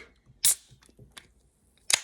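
A drink can cracks open with a sharp snap, followed by a softer hiss and small clicks, then a second sharp crack near the end, close and alone with no talk.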